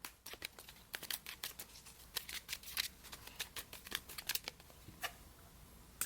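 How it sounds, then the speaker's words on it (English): Oracle cards from a Miracles Now deck being shuffled, a quick run of crisp papery flicks and snaps at close range, with no talking. "So I'm going to pull a Miracles Now card."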